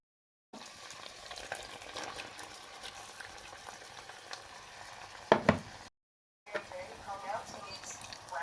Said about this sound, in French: dans ma poêle, j'ai renversé de l'huile et là je viens de renverser de la tomate